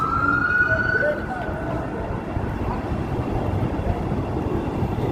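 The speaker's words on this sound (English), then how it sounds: "Hey, we got sirens." Emergency vehicle sirens wail along a busy Chicago street, a rising tone heard at moderate distance over steady traffic rumble and city noise.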